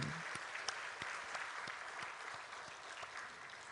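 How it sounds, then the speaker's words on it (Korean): Church congregation applauding during an Easter Sunday service, a steady, fairly quiet wash of many hands clapping together for a few seconds. "부활하신 주님께 박수를 하나님께 영광 돌립니다"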